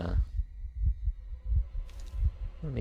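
Heartbeat effect from the video game AlternativA: loud low thumps in double beats, about five evenly spaced over the stretch, with a brief electronic swell near the end and a voice starting at the close.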